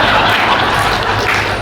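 An audience applauds at a Hindi-language public address by Kerala governor Arif Mohammad Khan, a steady, dense wash of clapping at fairly even loudness for over a second, with no clear speech over it.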